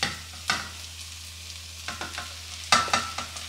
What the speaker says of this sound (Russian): Смесь из морковки, картошки и лука уже достаточно спассеровалась